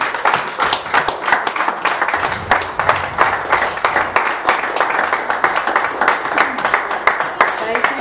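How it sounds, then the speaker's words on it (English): A church congregation claps hands together in a steady, dense burst of loud, rhythmic clapping that fills the space, with voices mixed in beneath. "Give the Lord a hand clap"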